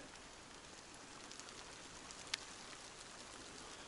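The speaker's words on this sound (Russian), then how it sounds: "очень прям сырой дождь" Heavy, wet spring rain falling outdoors on a forest hike, a soft steady hiss with one brief sharp drip standing out, faint and continuous with no talking.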